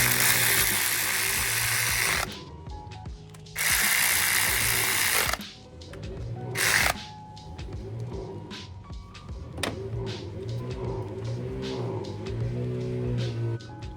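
A neighbor's tools rattle and whir in bursts while he works on a motorcycle, a fairly close buzzing mechanical noise that stops and starts, then gives way to softer clanks and scraping.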